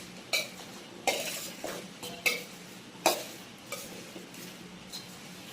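Dry pickle ingredients, onion and garlic cloves, being mixed by hand without oil, with a handful of spaced clinks and scrapes of a utensil against a bowl, quiet and close.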